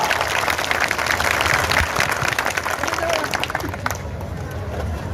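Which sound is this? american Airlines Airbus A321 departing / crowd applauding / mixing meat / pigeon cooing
crowd applauding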